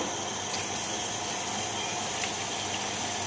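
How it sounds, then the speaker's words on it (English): Water streams steadily from an instant water heater tap (model IWH108), a smooth, even rush of flow that stays constant and fairly close throughout, with no voices. "So we can see water comes from here smoothly, and we turn the handle"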